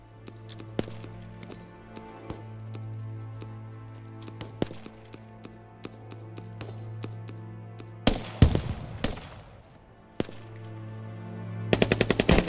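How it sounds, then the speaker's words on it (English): Gunfire in the tactical shooter Squad: scattered single shots and short bursts, some near and some distant, then a loud close burst of automatic fire and a final rapid volley, over a low steady hum. "We're taking fire here."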